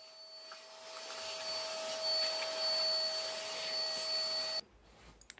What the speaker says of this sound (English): using the long attachment on the shop vac to tackle the really high spots that I can't reach easily